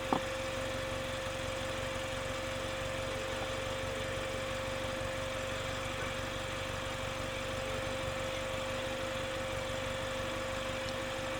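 A flood-damaged Mini John Cooper Works engine idles steadily, a continuous low rumble with a faint mechanical hum, holding an even level throughout with no talking.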